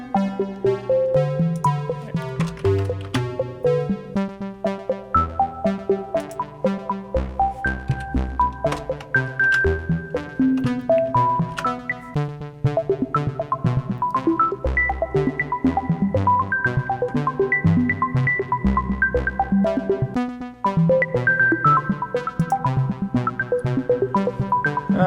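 Livecoded electronic music from a synth voice programmed in ChucK with a short decay, making a dense stream of quick plucky tones over a steady pulsing bass, loud and continuous.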